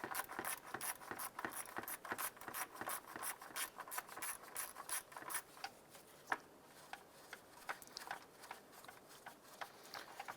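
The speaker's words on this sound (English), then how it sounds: "Using a 10mm socket, we're going to go ahead and remove the bolt holding our coolant expansion tank right here," A 10mm socket wrench on a bolt holding the coolant expansion tank of a 2001-2005 Honda Civic, giving a fast run of close, crisp ratcheting clicks that slow and thin out toward the end.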